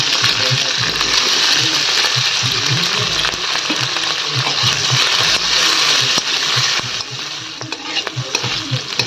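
Capsicum pieces fry and get stirred in a pan, a steady loud sizzle with repeated scraping and clacking from the spatula throughout, no voices.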